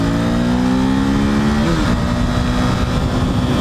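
A KTM RC390 motorcycle engine revs hard while being ridden, its loud, steady drone climbing in pitch, dropping briefly at a shift and pulling strongly again, close up throughout.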